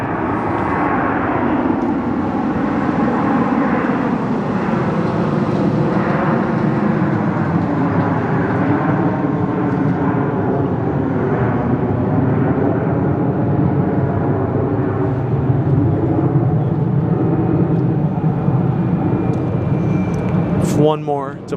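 A Southwest Boeing 737-700 departs Phoenix Sky Harbor Airport, its jet engines a broad, sustained roar that rises slightly and holds for about twenty seconds, loud and steady from a distance.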